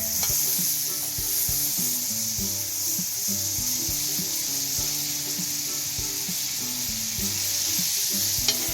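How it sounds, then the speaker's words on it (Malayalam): Cut pieces of Amul butter melting and frying in a hot pan, a steady close sizzle and crackle with faint clinks of a utensil, running continuously without speech. "നമ്മുടെ അമൂലിൻ്റെ ബട്ടർ കട്ട് ചെയ്തിരിക്കുകയാണ്. നമുക്ക് നമ്മുടെ ചൂടായിരിക്കുന്ന ചട്ടിയിലേക്ക് നമുക്കിടാം"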